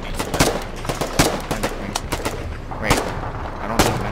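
Gunfire in Foxhole during a Spearhead Assault: scattered single shots and short irregular volleys from several rifles, some close and sharp, others more distant, continuing throughout with no clear talking.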